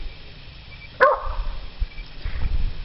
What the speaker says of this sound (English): Dogs bark all the time.